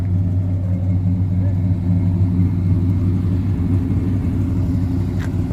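An old Dodge Sweptline pickup truck engine idles with a steady low rumble close by, continuous and even, with a voice briefly over it.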